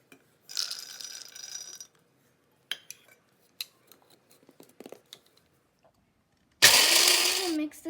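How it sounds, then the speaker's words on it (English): Dry grinder whirring loudly as it grinds roasted peanuts, a dense, steady motor roar in bursts, with scattered clinks and handling noises between runs. "We are going to grind them. Here I have a dry grinder."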